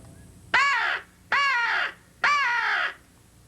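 A blown crow call imitating a sentry crow for turkey hunting gives three loud, sharp, evenly spaced caws, each about half a second long, close and clear against a quiet background.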